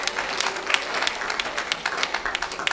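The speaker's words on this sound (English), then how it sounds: "Sister Boyer, we applaud you." Applause from a congregation at a homegoing service, many hands clapping in a dense, uneven patter that swells and fades briefly, and a few voices are faintly mixed in.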